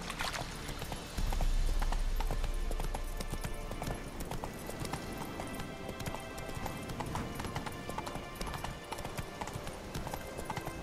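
Roach, a horse in The Witcher III video game, gallops on its own in auto-run, giving a steady, rapid clip-clop of hooves that carries on close and clear throughout. A loud rumble swells briefly near the start.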